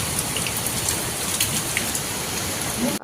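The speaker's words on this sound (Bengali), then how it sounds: "বিকালে শুরু হয়ে গেল অঝরে বৃষ্টি" Heavy rain pours steadily, a dense even hiss of drops throughout, close and loud, with no voices.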